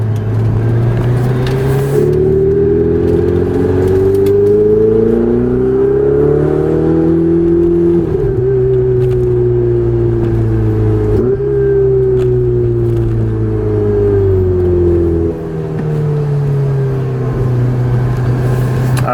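A Ferrari 488 Spider accelerates hard in second gear, its engine note rising and swelling through long pulls with a brief dip, loud and close from inside the car, no talk.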